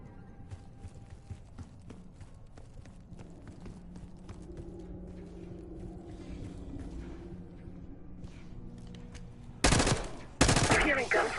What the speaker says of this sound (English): Hearing gunfire?